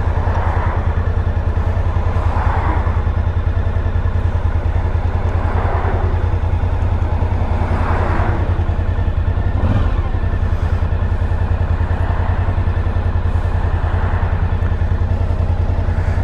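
A Suzuki V-Strom DL1000 motorcycle engine while riding, a loud, steady, close drone with a few gentle swells in pitch, continuous across the whole stretch.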